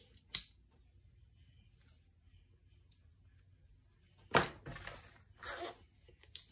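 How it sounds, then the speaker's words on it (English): Scissors trim cork fabric for a bag: a few sharp, close snips, one near the start and a cluster after a long quiet pause, with no talking. "I'm just gonna trim this back down"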